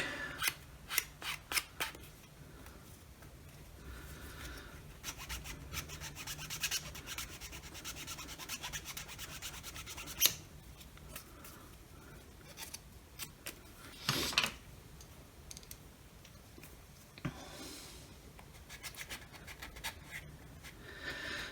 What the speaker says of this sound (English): try and file a little bit off that